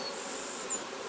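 A dense, steady hum of many bees buzzing on a hive frame, close and continuous over a brief moment, with no voices.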